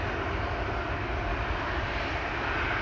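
An airplane departing from Amsterdam Schiphol Airport, a steady, loud, broadband engine roar that holds unbroken throughout.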